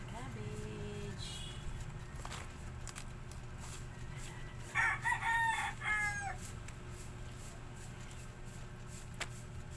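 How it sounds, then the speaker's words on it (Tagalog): Pet bantam chickens heard at a moderate distance, with a clear rooster crow partway through and scattered clucks over a steady low background hum. "Ito yung aking mga alagang bani."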